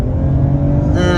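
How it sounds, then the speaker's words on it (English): A 2022 Toyota Avalon XLE with a dual overhead cam engine, heard from inside the cabin, accelerating hard with a loud, steady low engine drone whose pitch rises toward the end. "this dual overhead cam engine really wakes up"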